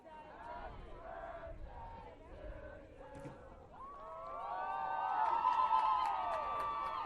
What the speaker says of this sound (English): Phoebe Deal's getting a little happy birthday sing over here from the crowd as well.